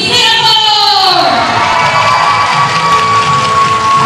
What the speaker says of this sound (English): Now cheer for our neighbors downtown, Team Singapore.